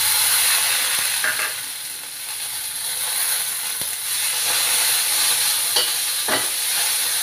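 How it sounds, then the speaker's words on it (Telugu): Fresh coriander goes into fried peanuts in a pan, giving a steady, loud sizzle of oil. Scraping stirs and faint clinks sound at intervals throughout. "పల్లీలు వేగిపోయాయి. ఇప్పుడు కొత్తిమీర ఇందులో వేసుకుందాం."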